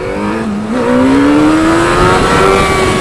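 A car engine rises steadily under throttle, a loud close drone climbing in pitch after a brief dip, with no voices over it.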